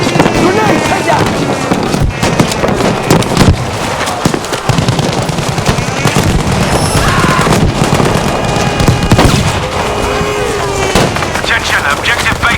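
Battlefield 5 combat with a grenade blast amid dense, rapid gunfire and explosions, loud and continuous throughout.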